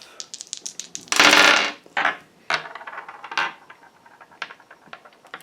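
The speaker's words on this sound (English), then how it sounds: "That dice is just going to roll forever" Dice rolling during a tarot reading: a rattling run of quick clicks and clattering impacts, one longer noisy tumble near the start, then scattered lighter taps fading out, close and loud.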